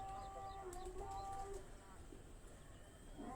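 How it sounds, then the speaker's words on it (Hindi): A pigeon coos softly a few times in quick succession, faint against background noise, with people talking nearby. "इसी तरह दोस्तों ये कबूतर भी जो आप देख रहे हैं"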